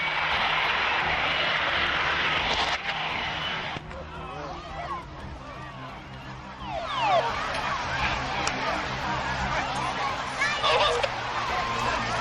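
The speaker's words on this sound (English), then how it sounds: "The Harrier jumped jet ditches into the sea at Lowestoft Air Festival" A Harrier jump jet ditching into the sea at Lowestoft Air Festival in 2002, its engine roaring loudly and steadily throughout with broadband jet noise, while crowd voices and shouts from the air-show spectators carry underneath.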